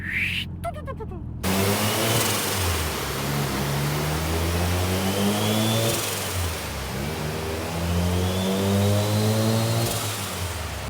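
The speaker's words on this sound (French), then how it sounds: "On pose le pied sur l'accélérateur, peu importe le régime et peu importe la pression" Heavily tuned Mazda RX-7 FD making around 600 horsepower accelerating hard, its loud engine note climbing in pitch through two rising sweeps with a brief lift between them, preceded by a short quieter moment.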